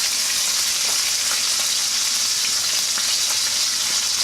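Ribeye steak frying in a cast iron skillet with butter, garlic and thyme makes a loud, dense, continuous sizzle with light spattering crackles throughout, close up and without speech.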